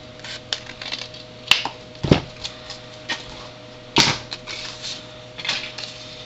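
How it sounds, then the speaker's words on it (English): Scissors snip through both layers of a folded card-stock flower pot card cut against a template, giving a series of short, dry, close cuts with brief pauses between them, alone with no talk. "you can just use your scissors and cut right against the template"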